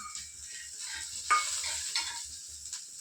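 Peanuts tossed into a pan of frying green chillies, giving a steady close sizzle with scraping stir strokes and a few sharper clinks across the mix.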